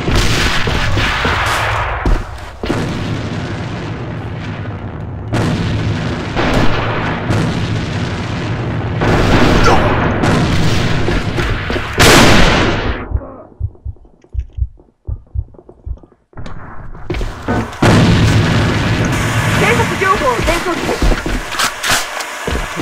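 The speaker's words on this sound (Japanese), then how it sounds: "前方に手榴弾！" Grenade blasts and gunfire in the online shooter AVA, with loud bursts of shots and explosions filling most of the scene, a short near-silent gap with scattered pops, then heavy firing again, under shouted voices.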